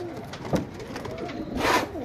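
Pigeons or doves kept for sale coo softly in short bursts, one near call early and a fuller swell near the end, over a dull background murmur.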